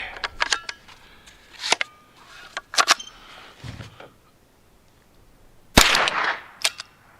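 Rock Island Derya TM22 .22 rifle firing Wildcat ammunition, a series of sharp, close cracks spaced irregularly, with a louder cluster of shots near the end.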